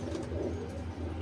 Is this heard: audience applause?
no